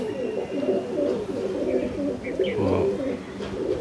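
Madrasi pigeons coo in low, soft, repeated throaty calls close by, with a faint background murmur.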